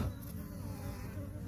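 Honeybees swarm and buzz steadily around a young queen in a colony being captured from an electric pole, a dense continuous drone heard close up with no speech.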